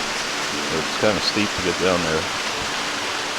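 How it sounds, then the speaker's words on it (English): A small waterfall beside a hiking trail on a rhododendron trail in Mt Airy, Georgia, gives a steady broadband rush of falling water under a man's speech near the camera. "apparently there's a little waterfall here right along the side of the trail"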